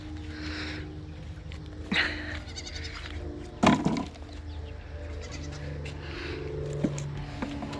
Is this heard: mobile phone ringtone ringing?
no